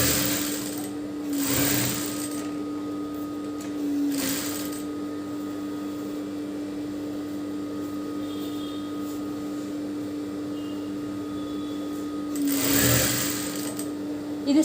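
A sewing machine stitches a semi Patiala pant in a steady, close running whir, with brief louder bursts of stitching near the start, around four seconds and again near the end.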